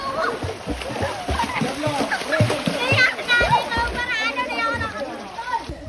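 Water splashes and splatters continuously as children shower together outdoors, with kids talking, shouting and laughing over the steady spray close by.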